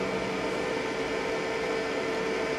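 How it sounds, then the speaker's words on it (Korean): Steady mechanical hum with a buzzing vibration from the motor of a Nest air cooler, constant and fairly close, with no talking. "이 기계 자체의 진동 소리가 더 크거든요"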